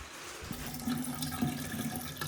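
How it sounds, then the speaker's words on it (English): Water starts running from a tap just after a burst pipe was repaired and the breaker switched back on. It begins about half a second in and continues as a steady, moderate rush with low pressure. "Okay, we're getting water."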